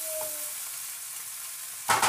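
Seasoned meat frying in a pan, a soft continuous sizzle that surges into a brief louder hiss near the end, close and without voices.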